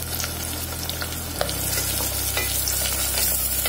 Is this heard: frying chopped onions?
yes